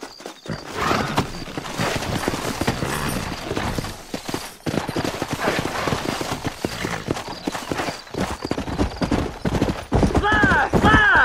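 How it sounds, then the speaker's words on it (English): Horse hooves clip-clop steadily in the Red Dead Redemption video game, close and continuous for several seconds, mixed with gunfire bursts, a whinny and talking voices. "Horses are over here."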